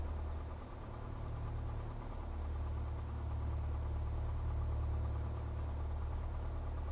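A Piper PA-28 Cherokee's piston engine idles on the ground in the FSX flight simulator, a steady low droning hum with faint vibration, continuous and even, with no speech.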